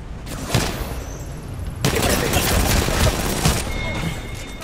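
Gunfire in the battle royale video game Apex Legends, loud bursts of rapid shots and booms crowding the whole stretch, with a sharp cut partway through and faint voices under the shooting.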